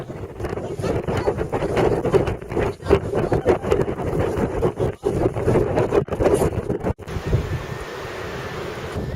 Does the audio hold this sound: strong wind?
yes